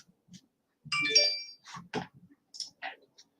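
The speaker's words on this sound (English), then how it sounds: "My phone's going off for some reason." A mobile phone rings nearby with a short electronic ringtone melody of quick chirping tones separated by brief gaps, alone against silence.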